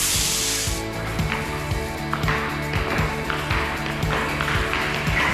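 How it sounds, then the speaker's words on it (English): A roller spreads epoxy primer across a garage floor, giving a steady, close rubbing hiss with repeating rolling pulses that runs for the whole stretch. "We apply the epoxy primer with a squeegee and then we spread it out with a roller."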